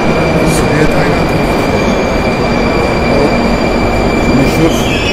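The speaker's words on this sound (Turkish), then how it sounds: "Moskova metrosu böyle." A Moscow metro train runs loudly and steadily through the whole stretch, its wheels squealing with sharp high tones over a dense rumble, while faint voices are heard beneath the noise.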